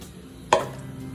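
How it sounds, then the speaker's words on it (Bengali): A single sharp knife strike on a cutting board while finely chopping ginger, one close, crisp chop standing alone in a quiet kitchen. "আদা কুচি কুচি করে কাটছি"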